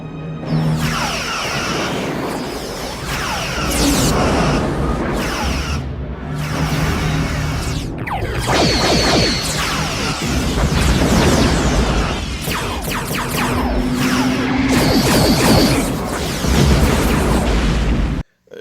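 Star Trek starship weapons fire and explosions during a battle against a Borg cube: a dense, continuous barrage of booming blasts, whooshes and sweeping energy-beam tones, loud and close, ending abruptly.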